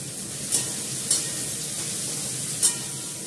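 Cut potatoes with turmeric fry in a pan with a steady hiss of sizzling oil, broken by three short scraping stirs, close and clear with no talk.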